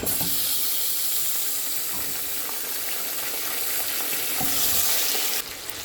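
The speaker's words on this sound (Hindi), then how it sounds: "अब मैं ऐड कर रही हूँ ये मीट।" Mutton pieces added to a pan with chopped ginger fry with a loud, continuous close sizzle and stirring, steady throughout before dropping off sharply near the end.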